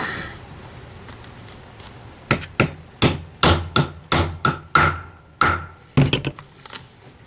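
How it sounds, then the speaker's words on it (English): A hammer strikes a punch through leather while making a survival sheath, with about a dozen sharp, evenly spaced taps close by. "you take your hammer,"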